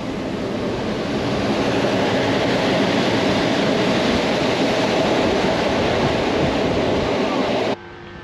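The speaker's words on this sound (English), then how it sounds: "very loud here in this train because the window beside us is open" Loud, steady roar inside a moving train in Poland, with rushing wind and rattling rail noise pouring through an open window, cutting to quieter near the end.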